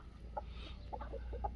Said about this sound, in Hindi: अभी हमारे देखो मुर्गे कितनी आवाज़ से अच्छे बोल रहे हैं, कितने तेज़ बोल रहे हैं।